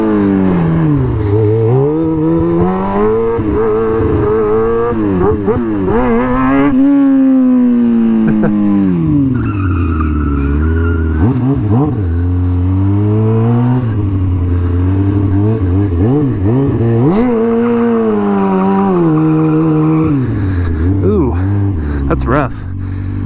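A 20-year-old stunt motorcycle revs and rides with a loud, near engine whose pitch climbs and falls repeatedly through the throttle, running steadily throughout.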